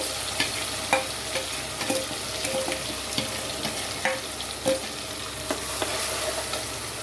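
Ground shallot paste fries in a pan for fish curry, a steady sizzle with intermittent scraping stirs and spoon knocks, close and alone with no talk.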